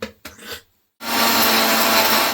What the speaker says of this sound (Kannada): ಹುಣಸೆ ನೀರಿದೆ, ಅದನ್ನು ಹಾಕೊಂಡು ರುಬ್ಕೊಂಡ್ಬಿಡ್ತೀನಿ